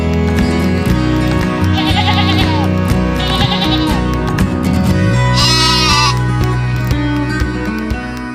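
Sheep held at an inspection facility before export bleat loudly and close by, several overlapping calls over a dense, steady background of livestock noise, with no talk.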